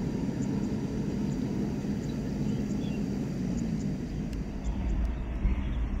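Thai-registered airplane T7-852 taking off near Noi Bai airport, a steady distant roar of jet engines that holds throughout at moderate, even loudness with no talk.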